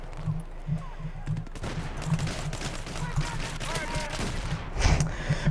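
Gunfire in the Battlefield 3 video game, with a rapid pistol-like stream of sharp shots over a pulsing low background tone and a louder blast near the end, while a player talks.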